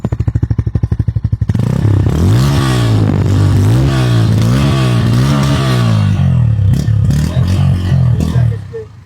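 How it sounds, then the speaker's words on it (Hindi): A Bajaj Pulsar N160 motorcycle is started with the self-starter, its cranking chatter giving way to a steady idle, then the exhaust is revved repeatedly in rising and falling surges, loud and close. "इसके एग्जॉस्ट की साउंड मैं आपको सुनवाता हूँ।"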